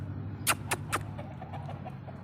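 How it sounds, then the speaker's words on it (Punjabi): Large hens and roosters cluck in a farmyard, three sharp loud clucks in quick succession followed by quieter scattered clucking over a steady low background hum. "ਆ ਸਾਰੇ ਆਪਣੇ ਵੱਡੇ ਮੁਰਗੇ ਹੈਗੇ ਜੀ ਵੱਡੇ ਮੁਰਗੀਆਂ ਤੇ ਵੱਡੇ ਮੁਰਗੇ"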